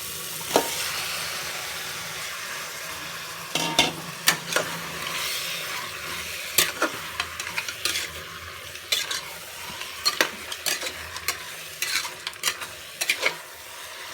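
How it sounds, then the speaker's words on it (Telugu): Marinated mutton pieces coated with turmeric, chili and salt frying in a pan, a steady sizzle broken by repeated scraping stirs of a spoon at an uneven rhythm, close and fairly loud, no talk. "ఇలా బాగా కలుపుకుంటూ 2 మినిట్స్ వరకు వేయించుకోవాలి"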